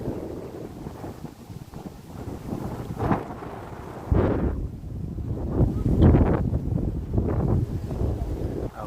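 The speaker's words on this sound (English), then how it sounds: "Lots of wind." Strong wind in Central Park, New York City, buffeting the microphone in loud, rumbling gusts that swell and fade, with a faint voice briefly underneath.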